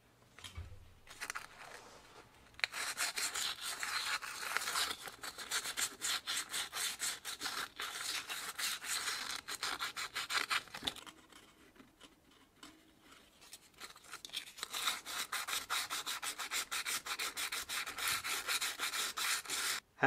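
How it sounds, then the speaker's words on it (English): Hand sanding around the circumference of a front drum brake drum from a Gazelle roadster bicycle, a close scratchy rubbing in rapid back-and-forth strokes that pauses briefly before resuming. "I am going to sand the whole circumference of the drum."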